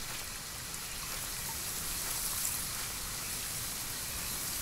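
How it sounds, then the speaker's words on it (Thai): Steady rain falls on a rainy night in the horror video game RAKE, a dense, even hiss of drops continuing unbroken at moderate loudness with no voices over it. "เป็นคืนฝนพรำครับ"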